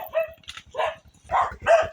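A dog barks several times in quick succession, close by and fairly loud, with short gaps between the barks.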